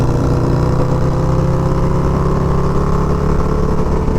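A tuned Harley-Davidson motorcycle pulls hard in third gear, its engine note loud, close and steady as it accelerates continuously with no break.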